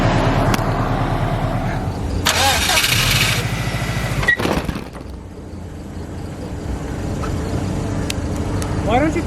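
A 2002 Subaru Impreza WRX STI engine cranks and catches, with a loud mechanical burst followed by a steady idle rumble nearby, with some handling noises along the way.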